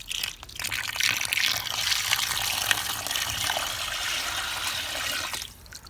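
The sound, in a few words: water poured into smoker water pan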